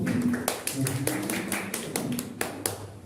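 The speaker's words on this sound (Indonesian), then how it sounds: "Tepuk tangan untuk teman kalian." Classroom applause for a student: scattered, uneven claps from a group of pupils, moderately close, with voices murmuring underneath.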